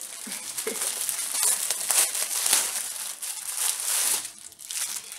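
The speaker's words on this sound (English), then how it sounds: "There are a lot of these little plastic bags." Small plastic bags from a cloth diaper package crinkle and rustle close up in irregular bursts of crackling, loud and continuous with brief pauses.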